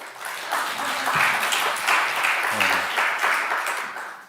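A church audience at a family worship seminar applauds a speaker with steady, crowded clapping that swells and holds for several seconds before tapering off.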